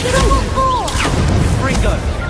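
An Incendio fire spell is cast in Hogwarts Legacy. Booming, crackling bursts of magic flare repeatedly over a busy game background, with a voice speaking through them.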